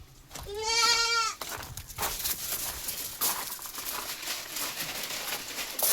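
Goat kids bleating, one loud close cry near the start followed by rustling, shuffling and fainter animal noise in a livestock setting.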